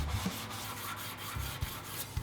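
Soft, scratchy rubbing of sandpaper on a wooden board, a few short strokes with light thumps, close by and fairly quiet.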